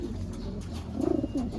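A racing pigeon coos close by, a soft low burbling call rising near the end over faint background noise.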